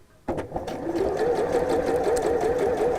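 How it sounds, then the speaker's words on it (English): A sewing machine stitches along a concealed zip on a cushion cover, running at a steady close whirring hum after a short start, with no talk. "So again, fold this over and then start to sew."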